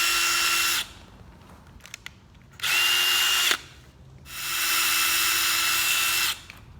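A power drill whirs in three bursts separated by short pauses, close and steady, with a high whine while it runs, during a soft top install on a Mazda NA Miata.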